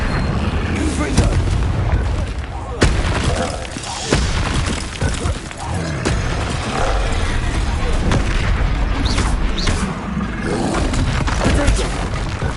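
The Confringo fire spell in Hogwarts Legacy sets off heavy, booming blasts over continuous loud game noise, with repeated impacts and rumbling; a voice speaks briefly among them.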